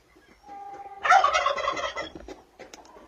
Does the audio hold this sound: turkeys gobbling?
yes